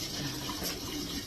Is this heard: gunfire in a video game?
no